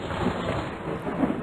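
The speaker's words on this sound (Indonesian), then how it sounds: "Dan sebentar lagi akan turun hujan." Rumbling thunder with steady rain hiss, a continuous stormy wash of noise with low rolls swelling briefly near the start and end.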